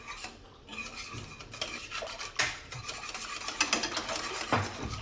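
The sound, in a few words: whisking kadhi batter with water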